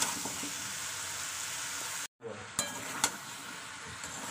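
Tilapia seasoned with turmeric and salt sizzles and fries steadily in a pan, with a few clinks of a utensil stirring it and a brief break partway through.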